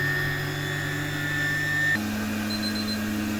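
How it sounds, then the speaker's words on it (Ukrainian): A cream separator for goat milk spins up to working speed at idle, a steady machine whine with sustained tonal hum that shifts pitch partway through as the bowl gains revolutions, loud and close with no talking. "нагрілося, можна увімкнути і нехай набирає обороти"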